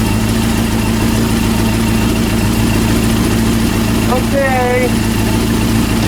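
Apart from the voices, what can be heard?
Honda CB400 motorcycle engine idling during carburetor adjustment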